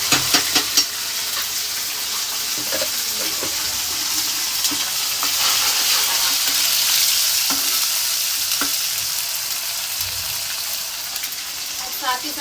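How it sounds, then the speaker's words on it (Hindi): Ginger-garlic paste frying with browned onions in a pan, a steady close sizzle with intermittent stirring clatter running throughout, no voices. "अब हम इसमें डालते हैं लहसुन अदरक का पेस्ट"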